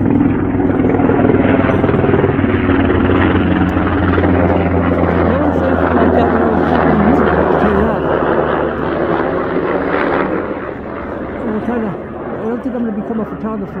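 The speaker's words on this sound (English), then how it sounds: "like watching this helicopter overhead." A helicopter flies overhead at night, its steady rotor drone loud and continuous throughout with a slight fade near the end, while people talk over it.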